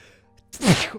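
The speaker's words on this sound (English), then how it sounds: "I gotta sneeze." A loud, close sneeze erupts after a brief quiet intake of breath, a sudden explosive burst with a voiced tail.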